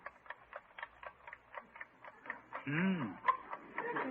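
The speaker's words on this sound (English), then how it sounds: "You can't tell whether it's the watch ticking or somebody knocking on the door" A noisy wristwatch held up to the ear ticks in a steady, quiet rhythm of evenly spaced clicks. A voice briefly cuts in partway through before the ticking resumes.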